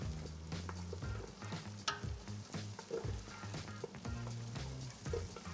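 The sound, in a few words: food stewing in butter and oil with spices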